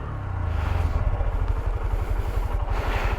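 A motorcycle engine revving hard as a learner rider sets off during a Module 1 bike test manoeuvre, a close, loud throbbing whose pulses quicken as the revs climb.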